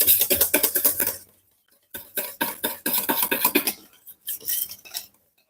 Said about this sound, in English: I'm going to whisk it a little bit still to remove any lumps from the